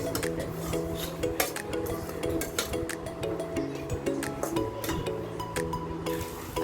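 A spoon stirs spices into samosa filling in a bowl, giving soft scraping and light clinks over background music.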